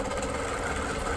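A longarm quilting machine stitching a straight ruler line, a steady close mechanical hum and rapid needle chatter running unbroken throughout.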